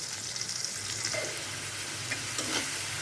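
Chopped onion fries in oil with salt in a pan for a chicken and potato curry, giving a steady close sizzle with occasional scraping as it is stirred.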